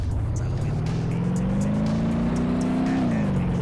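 A car driven in the BeamNG sandbox physics simulator, its engine droning loud and close, rising steadily in pitch as it accelerates, then dropping sharply near the end, with faint clicks above.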